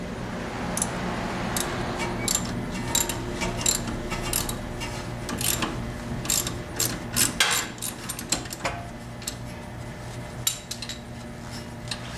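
A ratchet with a 14 socket works loose the support collar at the bottom of a front strut on a 2003 Acura TL S-Type, giving rapid metallic clicking in bursts with clanks of tools and parts, close and fairly loud.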